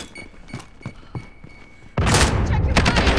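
Call of Duty gunfire on the Atlas map starts as scattered thuds and shots, then erupts into a loud, dense burst of sustained automatic fire and impacts, with excited voices shouting over the action.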